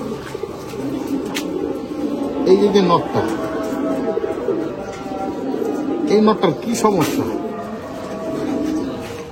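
Pigeons coo in soft, repeated low bursts from a home loft, while someone speaks over them throughout.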